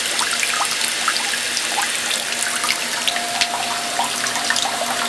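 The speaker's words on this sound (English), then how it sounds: "before we overflow this bucket here, I just verified the flow rate to be about a liter per minute" Water from an electric RIMS (recirculating infusion mash system) running into a bucket at about a liter per minute, a steady close splashing stream that continues unbroken throughout.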